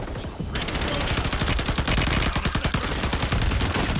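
Sustained machine-gun fire in the Warzone battle royale on Fortune's Keep, dense rapid rattling shots running nearly continuously and loud after a brief quieter opening.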